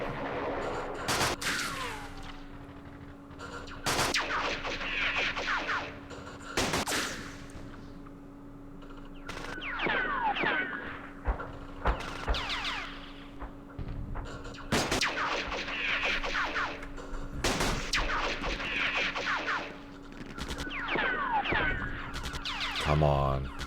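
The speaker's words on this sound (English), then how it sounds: "Oh, that's not mortars, that's artillery." Artillery fire in the wargame Campaign Series East Front on the Dnepr, with repeated sharp booms and bursts at irregular intervals over a steady low hum, loud and close, with a voice speaking in places.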